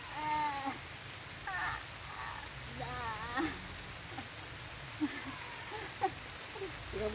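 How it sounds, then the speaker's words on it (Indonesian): Rain falls in a garden as a faint, steady patter beneath scattered voices and short tonal calls that rise and fall throughout. "Ini hujan beneran."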